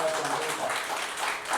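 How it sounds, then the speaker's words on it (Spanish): A congregation at an outdoor evangelical gathering breaks into loud, sustained applause, a steady dense wash of clapping with voices mixed in. "Dale un fuerte aplauso al Señor."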